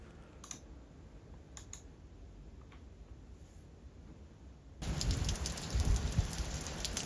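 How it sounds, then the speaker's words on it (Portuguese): Heavy rain falls in cold weather in southern Brazil, starting as faint scattered clicks and then surging into a loud, dense downpour partway through. "então tava chovendo bastante com muito frio"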